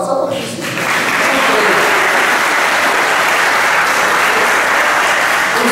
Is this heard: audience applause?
yes